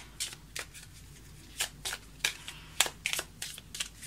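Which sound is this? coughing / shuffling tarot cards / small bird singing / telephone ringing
shuffling tarot cards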